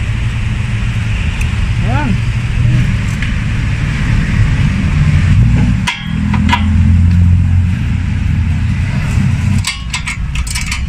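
Hammer blows on a car CV joint lock nut: a few sharp metallic strikes, with a cluster near the end, over a steady engine-like hum in a workshop while a voice talks.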